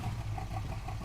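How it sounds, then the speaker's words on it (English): Chevrolet Bel Air drag car engine running with a deep, steady low rumble and slight pulsing, loud and close, no voices. "Here, I'll rev the engine for you."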